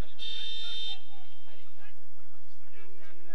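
A car alarm sounds somewhere near a soccer field during a match, a steady electronic tone under continuous commentary and crowd ambience.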